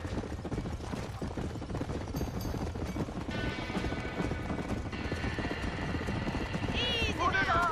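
Horses in a burning barn in Red Dead Redemption, with steady clip-clop hooves and neighing over a dense roaring din that builds toward the end, while voices shout.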